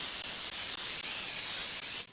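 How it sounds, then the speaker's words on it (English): A steady non-stick cooking spray hisses continuously for about two seconds, close to the mic, then cuts off abruptly. "Non-stick spray real fast."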